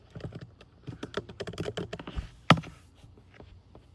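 Keyboard typing at a computer, a quick run of dense close keystrokes with one louder key thump near the middle, then a few lighter taps, no talking.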